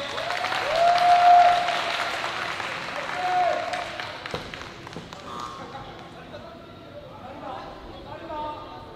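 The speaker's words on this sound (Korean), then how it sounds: "유호석 선수에게 경례의 박수 보내주세요" An audience at an amateur weightlifting competition applauds a lifter's 139 kg attempt, a broad swell of clapping that peaks early then fades to scattered claps under an announcer's amplified voice.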